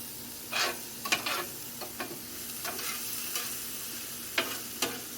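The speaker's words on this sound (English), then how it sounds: "Sauteing up nice" Ingredients for a Louisiana Cajun jambalaya sauté in a pot outdoors, a steady soft sizzle broken by several sharp scraping stirs and clinks of the spoon, close by with no talking.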